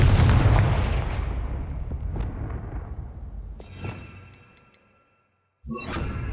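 Confringo spell blasts in the video game Hogwarts Legacy, a heavy booming explosion that rumbles and fades over several seconds, brief silence, then another loud blast bursts in at the end.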